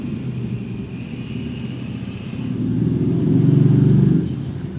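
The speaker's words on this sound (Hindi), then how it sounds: "1 मिनट रुक जाओ, गाड़ी बाइक का शोर।" Passing cars and motorbikes on a road make a low, continuous traffic rumble that swells louder as a vehicle draws near, then eases off again.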